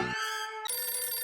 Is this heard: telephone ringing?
yes